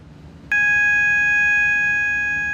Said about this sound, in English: This is what the Trust's fire alarm sounds like